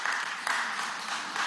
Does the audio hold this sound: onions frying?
no